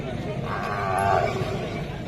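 A bull at a busy rural cattle market for Khillari bullocks gives one long, low moo over a steady crowd murmur.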